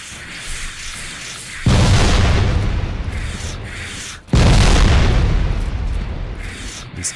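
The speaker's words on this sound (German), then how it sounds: "ich schmeiß die Granaten im Nahkampf" Two loud, close grenade explosions in the game Factorio, each a sudden heavy boom that rumbles and slowly fades, the second following about three seconds after the first.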